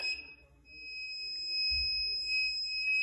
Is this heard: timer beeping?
yes